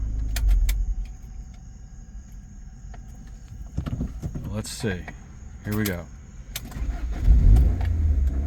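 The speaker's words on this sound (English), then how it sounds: "I'm going to turn it off and see if it starts right back up." A Honda EX car restarts after an hour of driving, with short bursts of starter cranking and the engine catching amid soft cabin noise. Someone speaks briefly.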